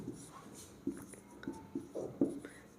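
A pen scratches out a profit-and-loss definition in short strokes with small pauses, close but quiet against a faint room hum, and no talking.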